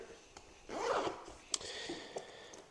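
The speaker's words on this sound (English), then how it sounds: "We'll unzip this." A zipper on a carry-on travel backpack is pulled open, a close, quick rasping unzip followed by a few short zipper clicks and rustles, no talk.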